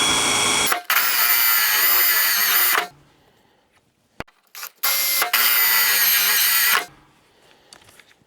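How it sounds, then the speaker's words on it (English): A power drill with a hole saw whines loudly in two long bursts, separated by a pause with a few small clicks and knocks. "And we're just going to drill right on this mark."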